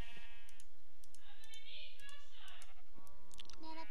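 Minecraft Pixelmon sheep let out wavering bleats at the start and end, with someone talking in the middle and light mouse clicks throughout.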